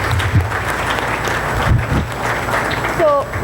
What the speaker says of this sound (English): So let's give a huge round of applause to him.